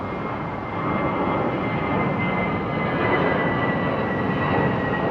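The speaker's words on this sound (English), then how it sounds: "Oh my God! That's a 747, man." A Boeing 747 jet at London Heathrow Airport roars loudly and steadily nearby, a broad sustained engine rumble with a whining tone, and no voices.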